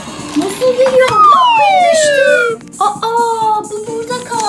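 A toy fire truck's electronic siren wails in loud, close, falling sweeps during children's toy car play at home, and a voice speaks briefly between the sweeps.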